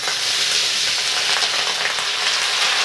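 Mutton pieces dropped into a pan of browned onions fry with a loud, dense, continuous sizzle and hiss, close up and alone, with no voices.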